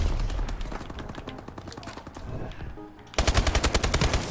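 Rapid bursts of gunfire in a video game, including sniper fire, crackle close and loud, with a sharper, denser volley of repeated shots at the end.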